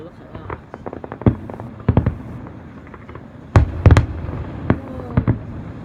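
Fireworks bursting at the Jersey Battle of Flowers, with scattered sharp cracks and pops, some distant and some close and loud, while people chatter throughout.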